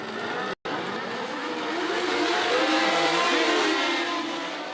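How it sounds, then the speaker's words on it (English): Mid-1970s Formula One cars racing at the 1975 South African Grand Prix, a loud continuous engine roar with pitch sweeping up and down as the cars pass and change gear, briefly cut out near the start. "As the cars dashed towards Crowthorne Bend, Scheckter managed to split the two Brabhams"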